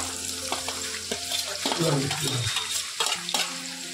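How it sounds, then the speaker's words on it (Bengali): Onions fry in hot oil in a pan on a gas stove, a steady close sizzle broken by a few scraping stirs and brief spatters, with no voices. "ওই তেলের মধ্যে আমি পেঁয়াজগুলো ভেজে নেব।"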